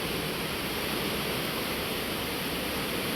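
Rain-swollen flood water rushes in a dense, loud, unbroken roar, with no distinct voices over it.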